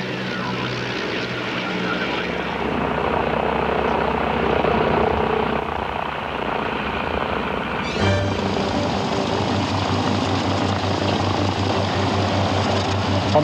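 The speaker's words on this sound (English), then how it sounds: "the DH-87 Hornet Moth, a two-seater touring biplane built in" De Havilland DH-87 Hornet Moth two-seater touring biplane from 1937 flying at the 1988 Australia Bicentennial Airshow, its propeller engine droning steadily and fairly loud throughout.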